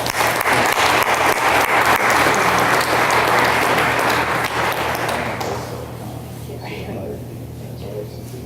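Audience applause honoring an award recipient at a school board recognition evening, a full dense roar of clapping that fades out around five seconds, leaving quiet room tone with faint talk.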